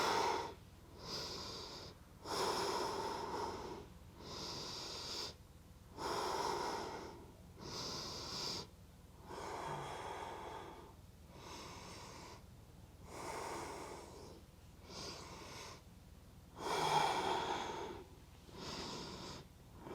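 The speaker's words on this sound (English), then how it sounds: "let your head hang, breathing deeply" Slow, deep breathing during a yoga shoulder stretch with the head hanging, long audible inhales and exhales alternating in a steady rhythm, close and soft with slight nasal rasp.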